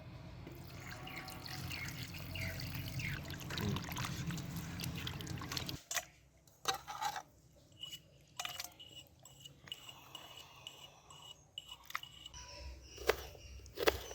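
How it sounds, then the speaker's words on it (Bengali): Cut chicken gizzards being washed in water, with a steady stream of running, splashing water for the first six seconds, then quieter scattered drips, clinks and handling noises. "এবার কেটে রাখা স্টমাকগুলো ধুয়ে নেব।"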